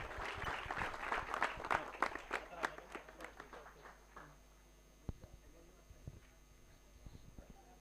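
Scattered clapping from a small crowd at a village cricket tournament prize distribution, honouring the player of the tournament; a brisk burst of claps that thins quickly into a few isolated claps, fairly quiet.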